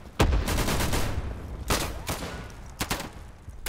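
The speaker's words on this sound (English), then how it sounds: "I'm going with the MP40 now" MP40 submachine gun fire in the World War II shooter Day of Infamy, several loud, close bursts and single cracks spread across the clip with busy battle noise between them.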